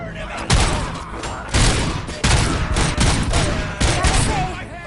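Winchester 1887 shotgun blasts in the game RoboCop: Rogue City, loud and close, with about five heavy shots spaced roughly a second apart, each followed by a brief rumbling tail.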